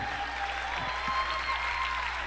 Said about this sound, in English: a round of applause for everybody that's here